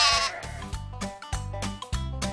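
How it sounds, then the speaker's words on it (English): Sheep bleating in a children's farm-animal nursery rhyme, a run of wavering, repeated bleats close up and loud, with no talk over them. "Old MacDonald has a sheep."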